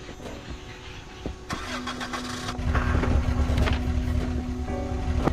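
A truck engine starting in the Dead Island video game: a cranking catch, then a steady low rumbling idle rising under faint background noise, with no talking.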